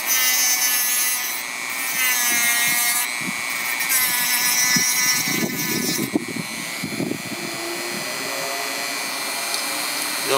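Bald eagle bone being cut at the fork with a hand saw for a choker, giving steady rasping strokes up close alongside scraping and rubbing, with a voice speaking briefly over the cutting.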